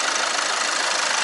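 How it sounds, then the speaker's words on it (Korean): Kia Carnival minivan's Smartstream engine idling with the hood open, a steady close mechanical hum with a dense hiss and no gaps, heard alone without voices. "이렇게 열고 보니까 엔진 고개전 소리가 제법 들리네요"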